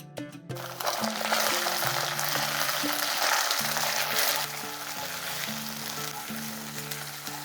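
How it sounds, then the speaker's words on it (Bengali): Ginger paste and chopped onion frying in a pan, a steady loud sizzle running throughout with a low tonal background hum and no talking. "আদা বাটাটাকে 30 সেকেন্ডের মতন ভেজে নিয়েছি"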